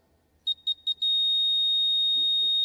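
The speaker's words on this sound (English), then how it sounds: "We'll test the buzzers once." Quiz buzzers being tested at a junior quiz final, four quick high electronic beeps followed by one long sustained tone, with faint murmur near the end.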